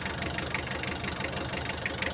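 A Mitsubishi 4D56 diesel engine with a hard-start problem idles steadily up close, giving a low, even mechanical rumble with a faint repeating knock and no talk over it.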